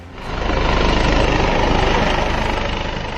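A helicopter carrying a chief minister arrives at Nashik for a campaign, its loud, steady rotor thump and engine roar filling the air close by with no talk.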